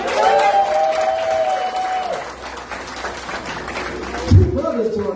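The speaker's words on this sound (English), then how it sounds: "Come on, give him a hand clap for him." A church congregation applauds, the clapping running steadily under a voice that carries over it from the start.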